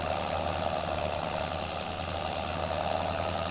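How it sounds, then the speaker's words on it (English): Tractor cultivating a field, its engine a steady, loud low drone with a continuous mid-range roar and no breaks or voices. "we are cultivating this field, and hopefully this tractor won't struggle a bit even while going up the hill if we have to"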